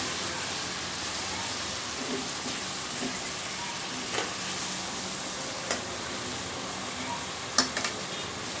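Flour toasting in a pan for chicken bread, with a constant hissing sizzle like light rain and occasional soft taps of a spoon against the pan, close-up, with no speech.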